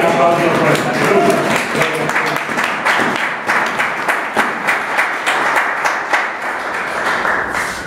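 Church congregation clapping after a sermon line about the cross, a steady mid-loud patter of many hands with rhythmic pulses toward the end, blended with voices from the crowd.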